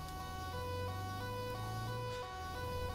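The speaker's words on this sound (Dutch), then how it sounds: "De sirene gaat erop" Police car siren in GTA 5, a steady electronic wail with stepped pitch changes that holds for the whole stretch at moderate level, continuous and without voices.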